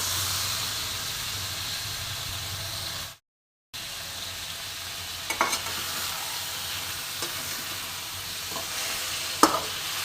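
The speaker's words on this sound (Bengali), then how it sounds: "এবার আমি এতে মাংসটা দিয়ে দেব। দেখো, এবার আমি মাংসটা দিয়ে দিলাম।" Mutton pieces fry and sizzle in hot oil and spices in a wok for a thin goat curry, a steady close hiss with a brief gap and a few stirring clicks, no talking.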